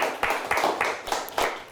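A small audience claps at a high-school quiz show, a short burst of rhythmic hand claps at a moderate distance with no talking.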